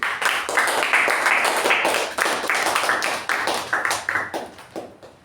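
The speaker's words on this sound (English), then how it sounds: "So let us give a huge round of applause for Toastmaster of the Day, Toastmasters, Sakshi." A Toastmasters meeting audience claps for Sakshi, the Toastmaster of the Day; the sharp, separate hand claps come in bursts that thin out and fade toward the end.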